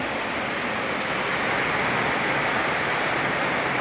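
Heavy rain falling outdoors in rural Thailand, a continuous broad wash of hiss and drumming on surfaces, steady and fairly loud with no talking.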